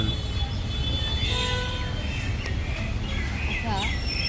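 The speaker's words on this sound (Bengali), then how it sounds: "পাখির ডাকটা।" A bird calls outdoors near a church on a quiet Sunday, with a few short chirps and rising-falling whistles at moderate distance over steady broadband background noise.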